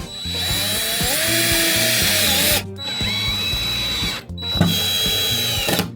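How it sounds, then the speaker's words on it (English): A power drill/screwdriver drives two screws into a FlexiPro E6 Max standing desk with no pre-drilled holes, making three whining bursts with brief pauses between them, close and loud. "we use 2 screws to lock it down to the table"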